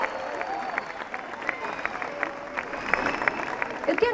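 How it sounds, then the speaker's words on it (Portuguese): A festival concert crowd applauds for a singer. Dense clapping and cheering are heard with a few sharper whoops, and a voice is partly heard through the noise. "façam muito barulho para vocês, muitas palmas, por favor"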